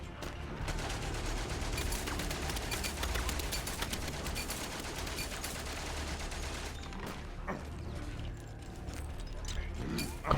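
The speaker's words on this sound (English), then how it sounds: "Wait for the machine gun fire to pass over" Sustained machine gun fire and bursts of gunfire rattle loudly through a World War I battlefield scene in the video game Valiant Hearts, a dense continuous barrage that thins out near the end with sporadic shots.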